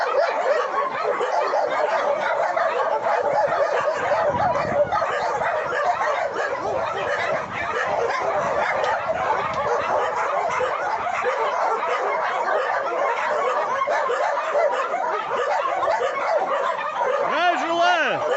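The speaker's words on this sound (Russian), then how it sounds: "Смотри, сколько собак." A crowd of 47 small domestic dogs yip, whimper and bark in a constant dense chorus, loud and close throughout, with people talking over the din.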